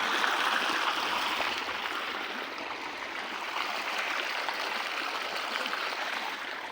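Irrigation water rushes steadily through a field channel, a constant broad gushing with no pauses and no voices.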